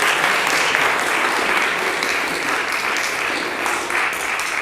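An audience at a game development community meetup in Graz claps in a continuous, even wash of applause, steady in level from start to finish with no talk over it.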